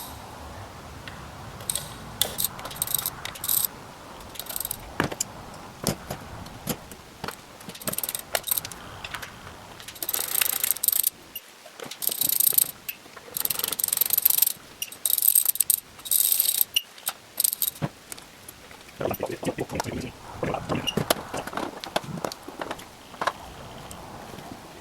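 Ratchet clicking as bolts are removed from an Audi S6 V10 throttle body, rapid close ratcheting bursts repeated in short runs with pauses, quiet between, no talking.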